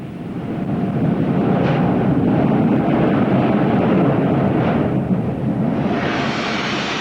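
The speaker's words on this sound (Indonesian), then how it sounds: "Jet pembakar tersebut membuat kristal kuarsa di permukaan meledak." A flame jet burner roars steadily against a pink granite slab, texturing the stone surface, a loud continuous broadband rush with slight swells throughout.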